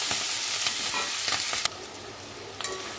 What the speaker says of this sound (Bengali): ডাটাটা ভেজে নিতে হবে ভালো করে